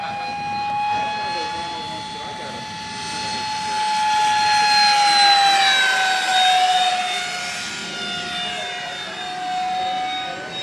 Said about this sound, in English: electric ducted fan jet coming in for a pass